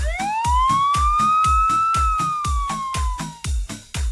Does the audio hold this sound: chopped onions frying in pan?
no